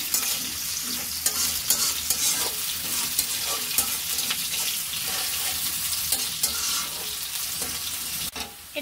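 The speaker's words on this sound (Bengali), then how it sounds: "এখন এটাকে ভেজে নিব ভালো মতো।" Shredded cabbage frying in oil in a pan with garlic, a steady close sizzle with repeated scraping stirs of a spatula against the pan, no talking.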